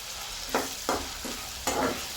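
Potato and tomato pieces fry in about four spoons of oil, a constant sizzle punctuated by four distinct bursts of stirring scrapes at a loose, uneven rhythm, with no speech.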